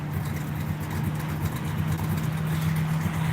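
A pickup truck engine idles steadily close by, a constant low hum with a slightly rough, uneven pulse running throughout.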